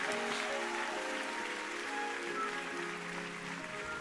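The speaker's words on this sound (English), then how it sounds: "Clap your hands" A church congregation at a lively worship service claps their hands together, a dense, steady wash of clapping that is mostly buried under loud sustained music with held tones, continuous and even from start to finish.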